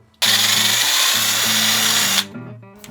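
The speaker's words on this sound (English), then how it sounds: "I'm gonna drill back through there one time and put the inserts in" A power drill bores back through a part to take threaded inserts, running as one loud, steady whir for about two seconds before winding down. Low tones hum underneath it the whole time.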